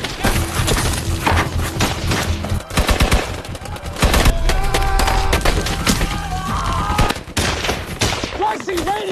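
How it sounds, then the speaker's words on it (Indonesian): Loud, dense machine gun fire in a Vietnam War film set in 1966, with rapid automatic bursts and shots that continue almost without a break, joined by scattered cracks and impacts. "mereka langsung ditembaki musuh dengan tembakan mesin"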